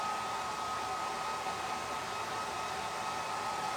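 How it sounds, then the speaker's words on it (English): A hair dryer blows on a freshly painted reindeer craft, a steady whirring rush with a constant motor whine, close and unchanging throughout, with no talking. "All right, we're gonna dry this. I buried my hairdryer."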